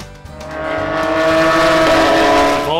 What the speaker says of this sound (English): the air was filled with the roar of engines, as the regular track cars were doing their laps